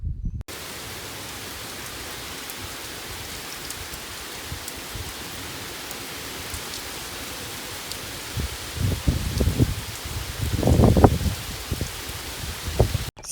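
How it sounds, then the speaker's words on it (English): Steady rain falls on an afternoon, a soft continuous hiss of drops on surfaces, with louder rustling gusts building toward the end. "So it has rained all afternoon"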